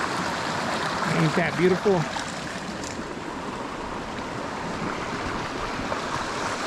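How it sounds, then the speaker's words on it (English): Lower Rock Creek north of Bishop, California, on the east side of the Sierra, rushes in a steady broadband wash throughout, with a voice speaking briefly over the water near the start. "that beautiful noise that you're hearing is the creek"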